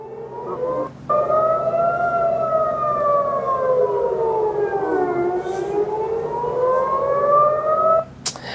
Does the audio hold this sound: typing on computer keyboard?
no